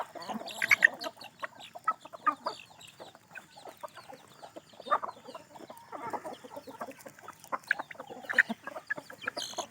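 Backyard chickens cluck and murmur close by, with irregular clucks and short squawks over a quiet rural background and no talking.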